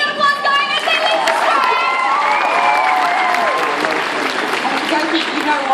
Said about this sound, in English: Keep that applause going as they leave the